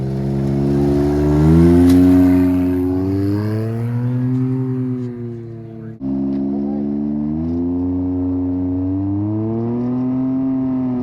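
A UTV race vehicle's engine revs hard through a desert section of the King of the Hammers race, a loud, close, sustained drone that rises and falls in pitch through gear changes, with a brief dip near the middle.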